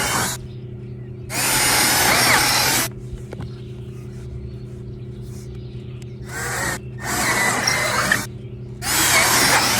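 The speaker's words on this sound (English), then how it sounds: "Okay, I'm ready to add my holes." A power drill bores holes through lined-up wooden boards for a flower press, in four loud close bursts of whirring and grinding separated by short quiet pauses.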